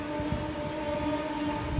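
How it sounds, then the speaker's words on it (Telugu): A train rolls past slowly with a steady low rumble and a sustained tonal whine, moderately loud and continuous, with no talking. "మెల్లగా పోతుంది ట్రైన్."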